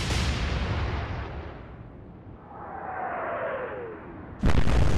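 Battleship main guns in the naval game Atlantic Fleet fire with a heavy booming blast that decays into a long rumble, then a whistling shell descends and a sharp loud impact crashes in near the end.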